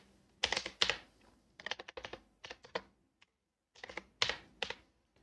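Python code being typed on a computer keyboard: close, crisp key clicks in short irregular bursts with brief pauses between, in a quiet room.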